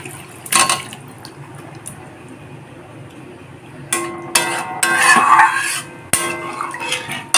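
Water is poured into a hot pan holding paneer pieces for paneer masala over a low gas flame, with a few sharp clinks and then bursts of hissing, bubbling sizzle as the liquid hits the pan.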